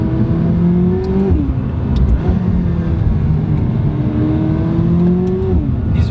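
A McLaren sports car accelerating hard along a scenic European road, its engine note climbing steadily through two gear pulls with a brief drop between them, loud and close inside the cabin with no talking.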